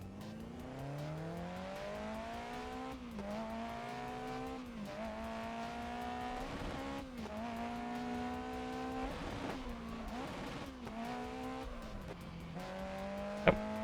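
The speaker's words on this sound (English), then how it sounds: "I can get a drift working there, but not much luck" Car sliding through handbrake drifts in the Grid Legends racing game: a steady engine drone rising and dipping with repeated gear shifts, under continuous tire noise, loud and close with no talk.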